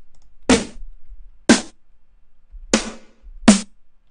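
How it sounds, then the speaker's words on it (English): Four snare drum hits auditioned from a sample pack, evenly spaced in a sparse sequence, each a sharp, bright crack with a short body and quick decay. "Next, the snare drum."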